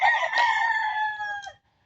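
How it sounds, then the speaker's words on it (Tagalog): On a chicken farm a rooster lets out a single loud, near crow that holds steady and then cuts off abruptly, leaving brief quiet at the end. "Ang mga manok."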